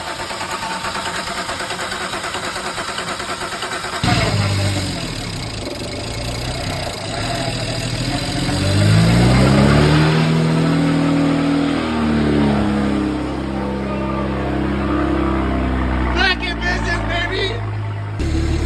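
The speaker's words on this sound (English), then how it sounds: "Got the car running, it's kind of idling here." A BMW N54 engine, freshly swapped with newer turbos, cranks over and catches, then revs up and settles into a rough, steady idle; loud and close, running continuously for the rest of the span with a brief higher-pitched burst near the end.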